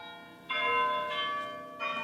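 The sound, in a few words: church bells ringing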